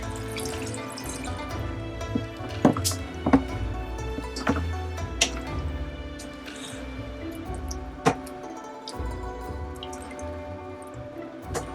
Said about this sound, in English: Now I'll go right in with my water.